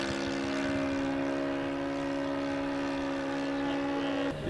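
A vintage Demoiselle propeller airplane flies nearby, its engine a steady loud droning buzz with strong tonal hum throughout, fading slightly at the very end.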